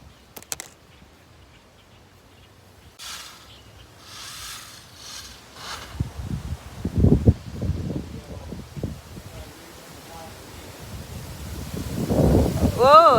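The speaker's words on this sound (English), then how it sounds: "Whoa, it's still windy." Strong wind after 100 mph thunderstorm winds buffets an outdoor microphone in irregular rumbling gusts, quiet at first and then growing rougher and louder toward the end, with light rustling mixed in.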